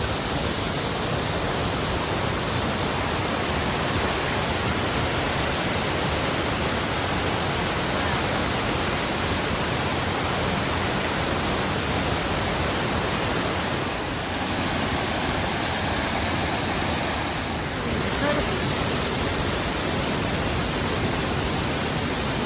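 Russell Falls in Mt Field National Park roars as a steady, loud broadband wash of falling water, continuous and close throughout with no voices over it.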